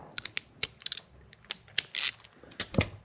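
A ratchet with a 10 mm socket loosens a small bolt on a Peugeot 206 engine bay, giving quick, close, crisp pawl clicks in short irregular bursts with brief pauses, and no voices.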